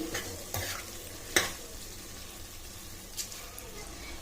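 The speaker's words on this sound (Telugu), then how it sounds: "ఇప్పుడు ఒకసారి అంతా బాగా కలుపుకొని పెట్టుకోవాలి." Mutton keema with meat masala being stirred in a pan, with scraping spoon strokes over a steady frying sizzle, a few sharper clinks standing out.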